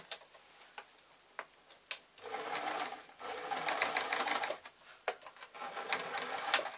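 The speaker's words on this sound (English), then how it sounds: "I just want to put a couple of stitches in the corner" A sewing machine stitching the corner of a padded dust cover runs in a few short bursts of rapid whirring and ticking, with quiet clicks and pauses between them, close by and fairly soft.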